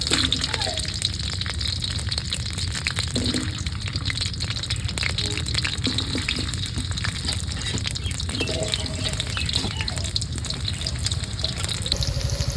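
Onions fry in hot oil in a wok for beef tehari in a village kitchen, a steady loud sizzle throughout with faint clinks and background voices.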